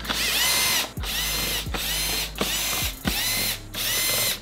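A ratchet clicks in bursts of rapid pawl ticks, about five strokes with short pauses between, as screws are removed during a stage 1 intake install on an Audi S3, loud and close with no talk.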